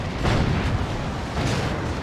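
A Blight Grenade blast in the strategy game Dawn of War 2, a low rolling explosive rumble with muffled booms, dense and moderately loud throughout.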